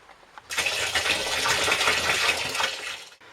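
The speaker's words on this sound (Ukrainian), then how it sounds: "Тепер потрібно їх ледь-ледь залити водою." Water poured from a container over pressed grape pomace in a vessel while making homemade chacha: a steady, close, rushing pour lasting about three seconds before it stops abruptly.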